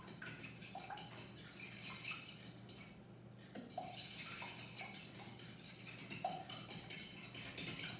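A whisk or fork clinks rhythmically against a bowl while eggs are beaten, quick faint metallic taps repeating close by, with a short break midway.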